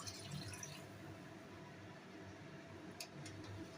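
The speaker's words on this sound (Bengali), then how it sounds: "গরম জল দিচ্ছি।" Hot water pours into a cooking pot, a soft continuous splashing trickle with a few drips near the end, quiet and close, heard alone.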